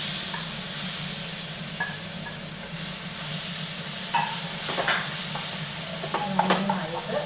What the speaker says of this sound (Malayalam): നേരത്തെ കുറച്ച് ഏത്തപ്പഴം അരിഞ്ഞു വെച്ചിരുന്ന് അത് നെയ്യിലേക്ക്